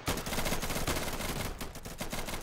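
Rapid automatic gunfire in the co-op shooter game Insurgency, dense bursts of shots crackling continuously and loudly for the whole stretch with no talk over it.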